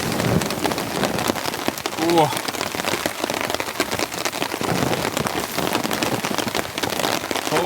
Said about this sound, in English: The rain's coming down pretty heavy.